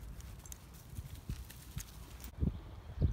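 Wild horses walk along a road, their hooves giving a few loose, uneven clip-clops, growing closer and louder toward the end.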